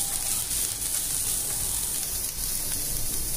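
Chopped carrots stir-fry in a pan for chicken patties, giving a steady, close sizzle and fry with a constant hiss for the whole stretch.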